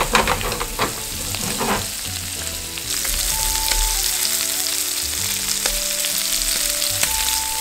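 Shrimp sizzling in hot oil in a pan as chopped parsley, peperoncino and tomato are added, a steady close crackling fry with stirring clatter, a louder burst as the ingredients go in, and no talking.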